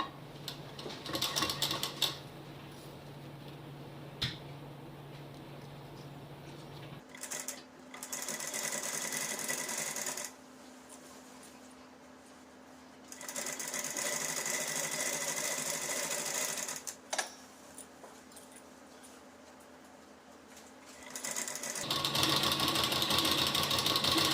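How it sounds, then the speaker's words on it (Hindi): Sewing machine stitching the lining of a suit: loud, close bursts of fast needle hammering, several runs of a few seconds each separated by brief pauses and handling noise. "लेकिन मैं पहले एक बार इसमें सिलाई लगा लूंगी।"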